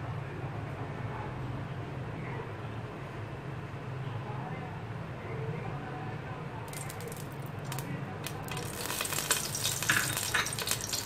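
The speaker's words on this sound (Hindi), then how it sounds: "चाइनीज़ राइस बनाने के लिए सबसे पहले हम डालेंगे तेल" Cooking oil for Chinese rice hisses in a pan, a quiet hum giving way partway through to a bright, crackling sizzle that grows louder and busier toward the end.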